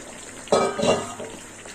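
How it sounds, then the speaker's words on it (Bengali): Cut pointed gourd drops into a frying spice masala, setting off a sudden close sizzling burst that fades back to a gentle hiss within a second. "এই মশলার সঙ্গে কষতে কষতে পটলটাও ভাজা হয়ে যাবে"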